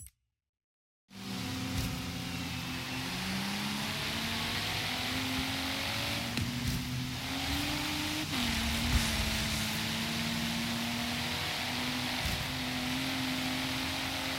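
Car engine in the racing game Forza Horizon 3, played with a steering wheel: a steady, continuous engine drone with shifting tonal pitch lines, rising and settling as the car runs through a race, no talk over it.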